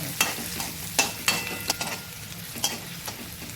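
Onion frying in a pan until pink for a village-style chicken dish: a soft continuous sizzle, punctuated by a handful of sharp clinks and scrapes as a spoon stirs it, with nobody speaking.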